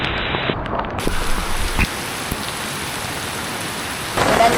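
Steady rain falls at a beach campsite during the rainy season, a dense even hiss with a rougher patch of splashes early on and a louder surge at the end.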